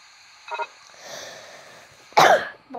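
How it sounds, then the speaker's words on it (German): A few short coughs from one person nearby with a cold, a small one early and a harsher, louder cough near the end, with quiet gaps between. "ich bin die ganze Zeit verschnupft und muss husten"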